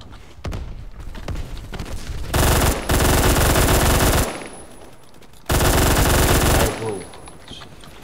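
An M231 machine gun fires in a video game in two long, loud, sustained bursts of rapid shots with a pause between them, close and dominant, with brief speech before the firing.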